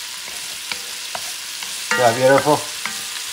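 Food sizzling in a pan for Creole jambalaya, a soft continuous fry with a few utensil taps, and a brief spoken remark over it.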